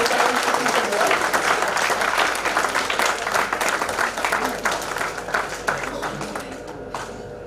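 Audience applause at an international conference for a Lifetime Achievement Award, a dense, loud wash of clapping that holds steady and gradually thins toward the end.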